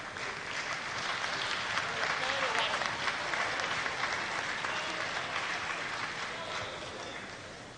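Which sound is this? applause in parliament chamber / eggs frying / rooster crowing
applause in parliament chamber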